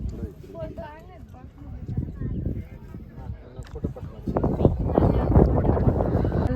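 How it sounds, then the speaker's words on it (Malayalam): Cold wind gusting across an open hilltop, a steady rumbling roar that swells louder toward the end, with people talking under it. "നല്ല കാറ്റ്, തണുത്ത കാറ്റുണ്ട്."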